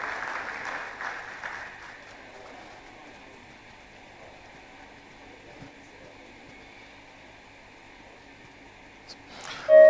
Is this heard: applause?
yes